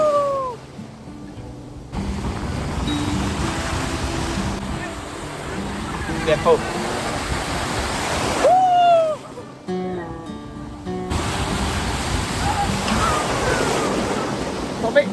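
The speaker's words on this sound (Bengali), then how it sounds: "কি সুন্দর না, বড় বড় কিন্তু ঢেউগুলো আসছে।" Big sea waves roll in at Tajpur beach, surging and breaking in a continuous wash that swells and recedes, with people talking nearby over the surf.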